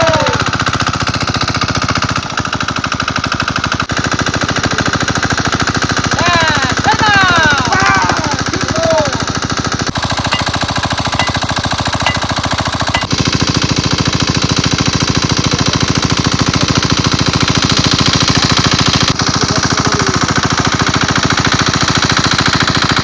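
An engine-driven water pump drains a village pond, a loud, continuous rapid mechanical chatter that runs throughout with little variation, joined briefly by whistling chirps in the middle.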